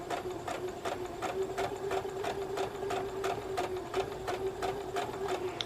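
A sewing machine stitches a curved quilt piece, its steady rapid needle clatter running evenly and close throughout with a constant motor hum underneath.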